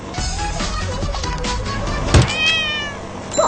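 A cat meows amid loud driving noise and clatter from a moving vehicle in an animated cartoon, a short cry rising over the steady rumble.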